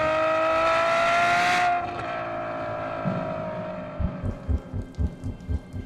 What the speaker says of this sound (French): c'est bien la sonorité des moteurs Ferrari très aiguë